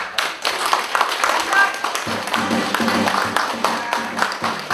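Audience clapping at a Korean volunteer patrol unit's launch and award ceremony, a mix of scattered claps building into fuller applause, with voices heard over it.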